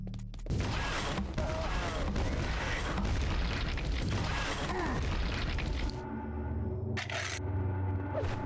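Rocket explosion in the video game Quake 2 (Nightdive port), a loud, dense, booming blast that rumbles on for several seconds, then fades into low ambient hum with a brief mechanical clank.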